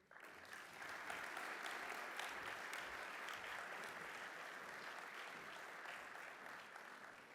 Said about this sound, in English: Another round of applause for the Honorable Prime Minister